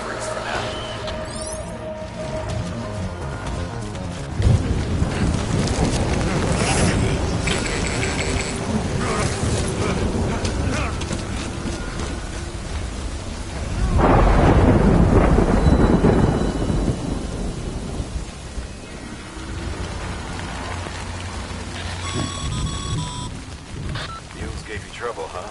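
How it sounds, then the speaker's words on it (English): Rain pours steadily in a video game thunderstorm, with a long rumbling thunder roll swelling loud midway and fading back into the hiss of rainfall. "Good thing it was raining."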